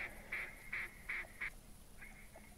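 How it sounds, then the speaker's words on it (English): Outdoors at a duck hunt, a series of five or six short, bright quacks comes in a steady rhythm, moderately distant and fairly faint over soft background noise, then trails off into a few weaker calls. "I hear some more ducks coming in."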